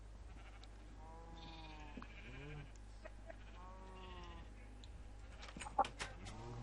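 Sheep bleat repeatedly inside the Minecraft video game, several wavering cries spaced across the scene at moderate loudness, with soft farm ambience and a few brief clicks near the end.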